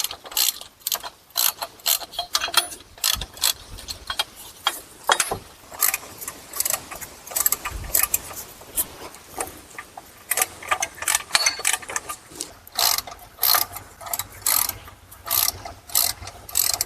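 Ratchet snugging up bolts on a Chrysler Town & Country 62TE transmission, rapid clicking bursts in uneven strokes repeating throughout, close and crisp.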